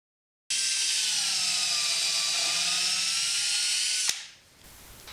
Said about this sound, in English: I'm going to run 6 screws in up through those stiles